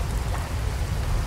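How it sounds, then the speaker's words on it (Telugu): Water sprinkled down through a sieve like rain inside a large shop gives a steady, soft patter, close and continuous for a moment, with no voices. "వర్షం పడుతుంది కదా"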